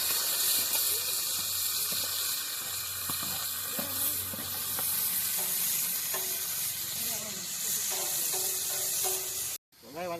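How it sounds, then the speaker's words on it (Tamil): Onions sautéing in hot oil for a Tamil country quail curry, a steady loud sizzle with scraping stir strokes throughout, ending in a brief cutoff near the end. "வெங்காயம் வதங்கிச்சு, இஞ்சி பூண்டு பேஸ்ட் போட்டுக்கலாம்."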